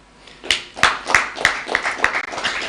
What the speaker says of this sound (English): A round of applause once again to Project Inspire.